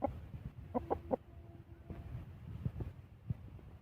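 A rooster clucks in short bursts during swimming training in water, a few close, fairly quiet calls over faint splashing and wind noise.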